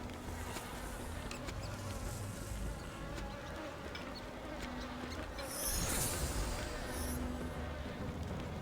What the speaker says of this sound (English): I do not like that buzzing bee sound.